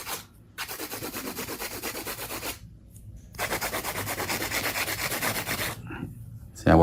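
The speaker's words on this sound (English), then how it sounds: "Support it while you're doing hand filing." A fingernail is worked over by hand with a nail file during a salon neon pink ombré nail art session, giving two long bursts of steady, close, raspy back-and-forth rubbing separated by short pauses, with no talk.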